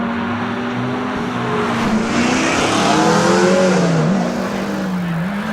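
A Subaru rally car driven by Nathan Robbins accelerates hard up a hillclimb course at Legend of the Lakes, its engine rising through revs with gear-change dips, loud and close throughout with no talk.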